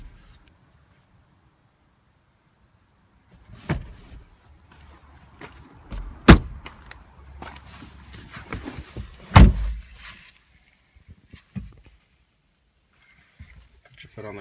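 Rear seats and headrests of a 2016 Ford Fiesta ST being folded: a few sharp clicks and thumps of latches and seat backs, sparse and close, with quiet handling sounds in between.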